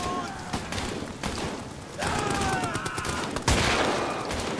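Gunfire in Amnesia: The Bunker comes as several sharp, loud shots with uneven spacing, set against a busy game background with ringing tones, and one heavier blast near the end.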